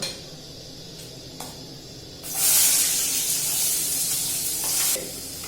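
Onions hit hot oil in a pan and burst into a loud, bright sizzle that holds steady for a few seconds before easing slightly, following a quieter stretch of background kitchen noise.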